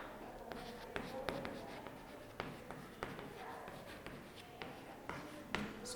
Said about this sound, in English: I write some important points.